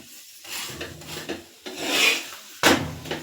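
Crispy rice-flour roti on a pan gives off dry, raspy crackling and scraping in several bursts, close and fairly quiet, with no talking.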